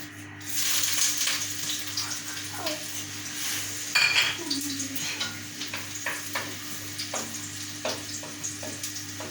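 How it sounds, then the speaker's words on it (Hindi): Chopped garlic dropped into hot oil in a pan, a loud sizzle burst followed by steady frying crackle with scattered utensil clinks and stirring taps, close by. "तो अब ऑयल गर्म हो गया है और अब हम इसमें डालेंगे गार्लिक"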